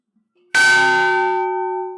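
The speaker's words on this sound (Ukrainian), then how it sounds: "У 2022 році прихожани храму купили новий благовіст." A new church bell weighing over 150 kilograms, bought in 2022 by parishioners in Oleshkiv, strikes once loudly and clearly, then its bright metallic tone rings on and slowly fades.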